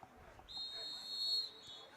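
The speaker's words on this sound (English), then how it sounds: "And we get a whistle." Referee's whistle at a varsity high school football game, one sustained shrill blast of about a second, heard over distant crowd murmur in an outdoor stadium.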